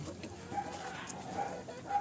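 Farm chickens clucking excitedly after being fed, a steady low chatter of several birds close by with faint voices in the background.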